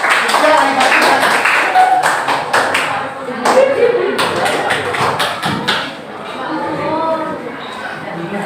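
Scattered clapping fills a classroom, with sharp uneven claps running through the first several seconds under children's chatter and a teacher's voice.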